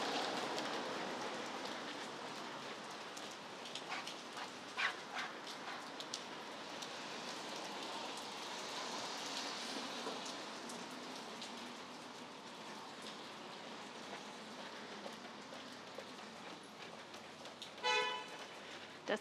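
Continuous hiss of rain falling on a street in Singapore near Geylang Road, with scattered drips and a few short car horn toots near the end.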